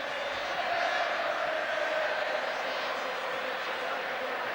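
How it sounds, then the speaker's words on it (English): Huge crowd filling Wembley stadium in sunshine for the 1983 rugby league Challenge Cup Final, Featherstone Rovers against Hull, a steady distant roar of massed voices holding level throughout with no clear individual words. "Huge crowd, at last basking in the sunshine."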